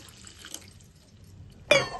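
Water splashes into a hot pan of gongura curry seasoned with turmeric and chili, a sudden short hissing burst near the end after quiet low kitchen rumble.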